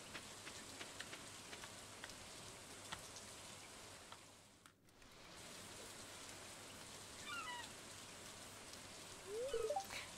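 Steady rain falls in the Stardew Valley farming game, a soft even hiss of drops that fades briefly before returning, with a few faint chimes near the end.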